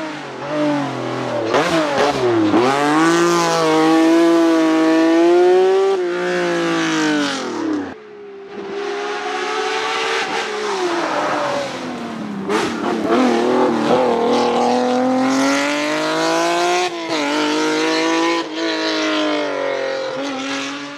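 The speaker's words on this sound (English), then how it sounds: "Listen to the sweet symphony of this NA V6." The naturally aspirated V6 of a Lancia Stratos Stradale homologation car revs loudly and alone, rising and falling through several sustained climbs with a brief dip midway before it builds again.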